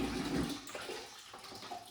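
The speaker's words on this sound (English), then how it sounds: "Water is pumping out" Solar water pump pushing water out in a remote setup, a steady rushing gush that is loud at first and then eases to a softer continuous flow, with no talk.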